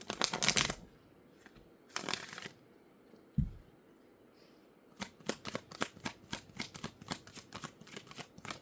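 Oracle cards are shuffled close up, with a few separate riffling bursts and a soft thump, then a quick rhythmic run of card flicks near the end, with no talking.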